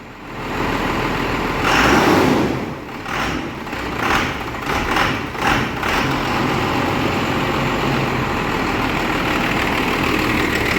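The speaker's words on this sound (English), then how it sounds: "Is it idling? Is it idling on its own?" A 12-valve diesel truck engine idles steadily with a low rumble, briefly revving a few times before settling back into an even idle.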